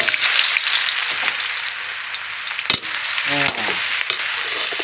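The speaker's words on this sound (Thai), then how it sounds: "ผัดให้หอมสักนิด มีแค่กระเทียมกับพริกแห้ง" Garlic and dried chili stir-fried in a hot wok for a Thai chicken and bamboo shoot stir-fry, giving a steady close sizzle with a few scraping stirs and a brief clack partway through, no talk over it.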